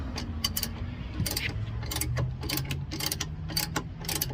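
A car jack is cranked down with an extension bar on a Mercedes GLE 350 during a flat tire change, producing repeated metallic ratcheting clicks in quick rhythmic bursts over a low, steady background.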